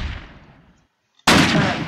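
Shotgun blasts in a video game: the tail of one loud report fades out, then after a short silence a second sharp, booming shot bursts in close and loud.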